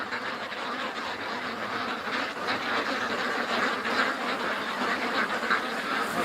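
Ducks quack in a busy chorus beside a creek on a freezing day, overlapping nasal calls close by over gusting wind noise.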